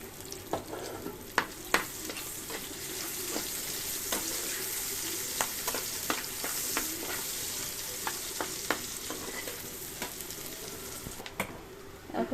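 Chopped onions fry in mustard oil with a steady, moderate sizzle, punctuated by frequent sharp clicks and scrapes of a spatula against the pan throughout, close by with no talking.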